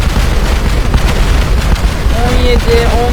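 Massed TNT detonating in Minecraft produces a loud, continuous roar of overlapping booms and rumbling blasts, ending with a few brief tonal game sounds.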